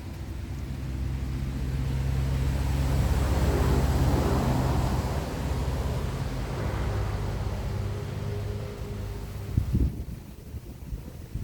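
Cars pass on a roadside beside a rice field, a steady broad rumble of traffic with wind buffeting the microphone, swelling to a peak midway and easing off before a brief knock near the end.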